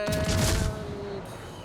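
Battleship guns in a Warhammer video game let off a heavy, booming salvo at the start, which fades into a rumbling tail with a thin tone underneath.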